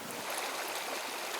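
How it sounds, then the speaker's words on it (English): Rapidly flowing water of the Nyamwamba River rushes and bubbles over rocks, a dense, steady, close-up gush. "rapidly flowing water over rocks. You see bubbling, which indicates that the water is very well oxygenated."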